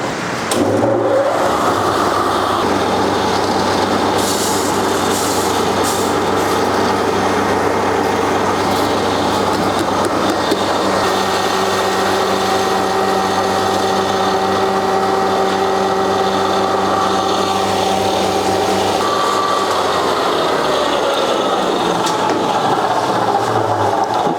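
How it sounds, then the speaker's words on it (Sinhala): A Coco Dreams Lanka 4-in-1 multi-purpose machine grinds wet rice into powder with a loud, steady motor drone and whine that holds nearly unchanged throughout, close by, with no voices. "මෙන්න මේක දැන් මේ මැෂින් එකට දාලා ඉවරලා මම පවුඩර් කරලා ඔයගොල්ලන්ට පෙන්නනවා"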